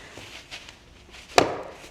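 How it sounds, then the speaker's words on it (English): A beanbag lap tray, used as an accessibility aid, is banged down onto a surface: one sharp, fairly close knock that rings briefly after a quiet stretch of faint handling noise. "remember not to bang this tray down so hard."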